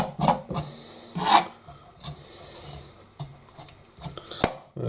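A knife scrapes the skin off winter vegetables for soup, several short rasping strokes at close range with pauses between them, and no talking.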